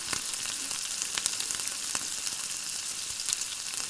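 Two tablespoons of tomato ketchup are mixed into a pan over medium-low flame for Korean fried chicken sauce, giving a continuous bright sizzle with scattered crackles and small stirring taps throughout; no talking.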